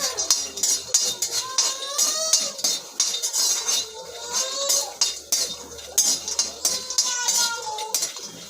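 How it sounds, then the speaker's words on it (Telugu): Grains rattle and scrape against a dry pan under quick, rhythmic stirring, loud and close with metallic squeaks from the spatula. "కొంచెం డ్రైగా రోస్ట్ చేయాలి వీటిని"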